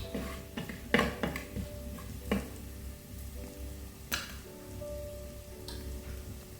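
Quiet sizzling of chili powder in hot oil in a pan, with several soft scraping stir strokes and light knocks of the utensil against the pan over a steady low frying hiss.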